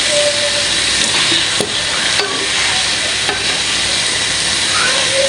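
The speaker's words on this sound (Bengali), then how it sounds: "তো এতে দিয়ে দিব আমার ফ্রাই করা চিকেনগুলি। ভালো করে একটু নেড়ে ছেড়ে নিই।" Fried chicken pieces are stirred and tossed in a hot pan, a loud continuous sizzle with scraping strokes of the spatula throughout, close up and without speech.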